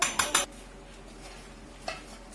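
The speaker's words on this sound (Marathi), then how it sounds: "त्याच्यावर झाकण ठेवा थोडं" Metal lid set onto a pot of boiling water with potatoes: three quick clanking clinks close together near the start, then quiet simmering hiss and one softer clink later.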